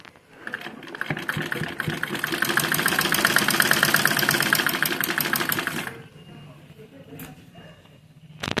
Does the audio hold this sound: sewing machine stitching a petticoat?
yes